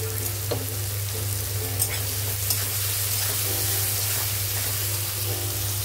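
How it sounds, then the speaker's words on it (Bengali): Onions fry with salt in a pan until lightly browned for kadai paneer, giving a constant close sizzle under a low steady hum, with occasional stirring scrapes and no talk. "এবার পেঁয়াজটা আমি হালকা ব্রাউন করে নেবো প্রথম।"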